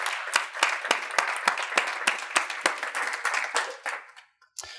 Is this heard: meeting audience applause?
yes